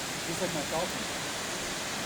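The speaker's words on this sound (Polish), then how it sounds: "Stąd jest widok na ten wodospad." A waterfall in Bhutan, heard from a viewpoint, gives a steady broadband rush with no breaks, with faint voices briefly audible early on.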